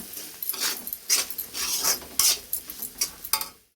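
A spoon scrapes and stirs crispy potato fry with chili powder in a pan, giving repeated close metallic scraping strokes with a soft sizzle underneath.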